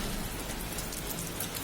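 Heavy rain pouring down in a dense, steady hiss of drops striking surfaces, loud and close, with no voices.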